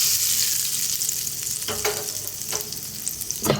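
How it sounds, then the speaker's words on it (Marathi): Hot tempering of cumin, asafoetida, dried red chillies and curry leaves poured over raw mango chutney, giving a loud, steady crackling sizzle throughout with a few sharper spits and pops near the end. "गरम गरम फोडणी ह्याच्यावर ओतून द्यायचे"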